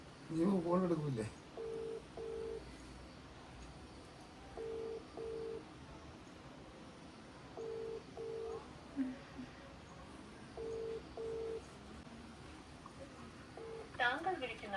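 A phone call going unanswered: repeated paired ringback tones sounding at regular intervals under a quiet background, with a voice speaking at the start and again at the end.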